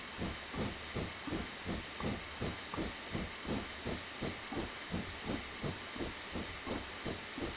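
Steady broad steam hiss from a Darjeeling Railway steam locomotive in Train Simulator Classic, with even, rapid exhaust chuffs pulsing beneath it throughout as the engine works uphill.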